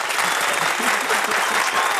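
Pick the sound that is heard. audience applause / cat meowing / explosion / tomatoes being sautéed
audience applause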